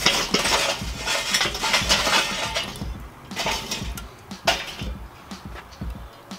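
Charcoal briquettes poured into a vortex insert inside a Weber kettle grill, a series of clattering, rattling impacts as coals tumble and knock against metal, in irregular bursts with pauses between.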